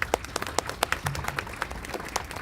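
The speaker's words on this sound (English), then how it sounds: "Let's give them a big round of applause." Scattered hand claps from a modest crowd at a political primary debate in Illinois, with sharp individual claps standing out in an uneven, moderately loud patter.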